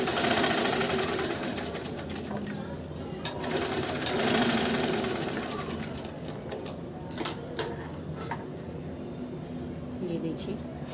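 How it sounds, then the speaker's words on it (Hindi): A sewing machine stitches a double katori blouse at a half-inch margin, its rattling hum running unevenly, close and continuous, while a person talks over it. "एक सिलाई और लगाते हैं"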